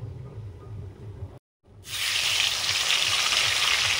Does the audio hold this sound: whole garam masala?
yes